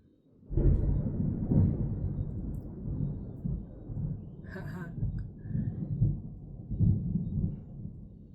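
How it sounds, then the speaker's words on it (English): A loud thunderclap breaks out during an autumn storm and rolls on as a deep, rumbling, uneven roar that swells and fades in waves for several seconds, with no voices over it. "That was one wonderful thunderclap."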